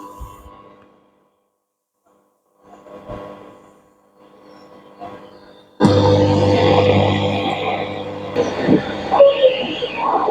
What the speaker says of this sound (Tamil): இப்போ நான் ஸ்டேஷன் டியூன் பண்ணி பார்க்குறேன் பாருங்கள்.